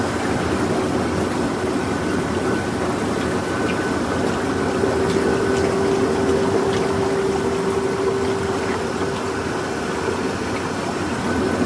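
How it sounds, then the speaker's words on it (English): A steady mechanical pump pulling water through a sand filter drones continuously with a faint watery rush underneath and a thin tonal whine in the middle. "this is still pulling water up. It's pumping it."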